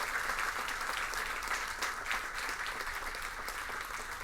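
A crowd at an inter-school quiz competition gives sustained, warm applause, a thick and continuous patter of many hands that keeps a constant loudness from start to finish.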